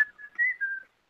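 Someone whistles a short, clear melodic phrase of a few sustained notes at a party, close by and alone, with no talk over it.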